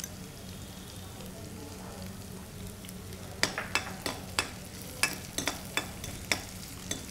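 Green chilies sizzle in hot oil with ginger and garlic, a steady frying hiss under a run of sharp metallic spatula stirs and scrapes in the second half.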